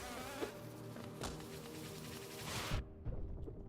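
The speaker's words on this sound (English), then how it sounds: "Big bees." Big bees in the video game Hollow Knight buzz in a quiet, wavering drone with a few swelling passes and soft thumps, before the sound drops away near the end.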